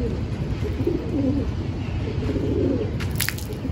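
Pigeon cooing softly in a low, repeated murmur close by, mixed with faint dripping water and background noise.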